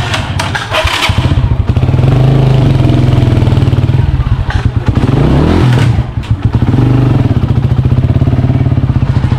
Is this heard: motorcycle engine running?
yes